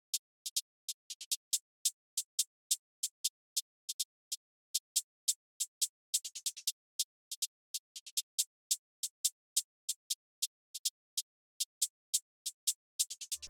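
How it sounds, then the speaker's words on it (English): Two layered NY drill hi-hat patterns with chorus play together, giving a thin, crisp ticking at a steady rapid pulse with occasional fast rolls, all fairly quiet and with no voices. "Now when I play these 2 hi-hats together,"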